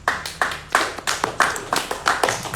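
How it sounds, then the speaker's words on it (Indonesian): A small audience at a theatre discussion evening claps in a steady, uneven rhythm, a few pairs of hands striking close by, with no voices over it. "Kita berikan tepuk tangan yang meriah."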